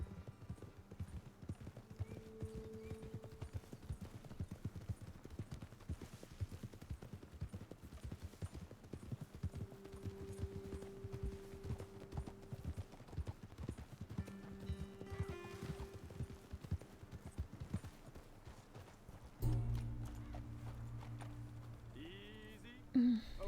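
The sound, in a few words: horses trotting in the video game Red Dead Redemption 2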